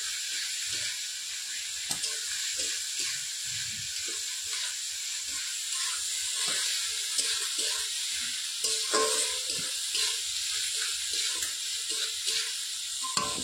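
Green chili and chopped tomato frying in a pan over a wood fire, a continuous close sizzle and hiss with scattered stirring scrapes and clinks throughout.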